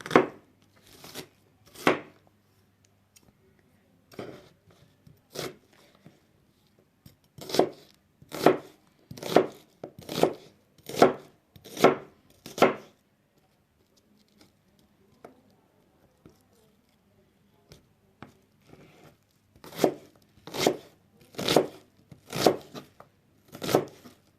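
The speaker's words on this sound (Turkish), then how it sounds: "Şimdi salatamız için soğanlarımızı küp küp doğruyoruz." A knife dices onions into cubes quickly on a cutting board in steady rhythmic bursts, separated by short pauses, close and crisp.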